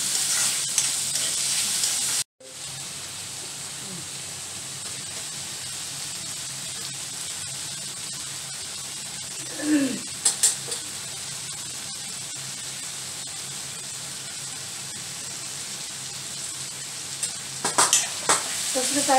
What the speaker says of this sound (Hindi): और इसमें डाल दिया टमाटर, थोड़ा सा और पकाएंगे।